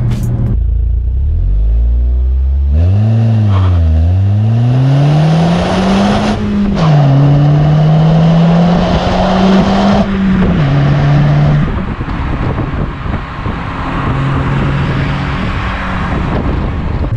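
An Alfa Romeo 147 with a small 1.6-litre four-cylinder engine revs up close and loud, its pitch climbing, dipping and rising again in repeated sweeps before settling into a steady drone, with no talking.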